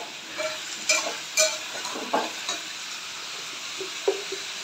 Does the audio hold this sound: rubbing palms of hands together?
no